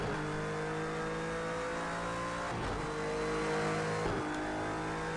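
A GT3 race car engine in the video game Project Cars 2 drones steadily at high revs through the last corner at Dubai, with brief dips as it shifts or lifts, all on its own without talk.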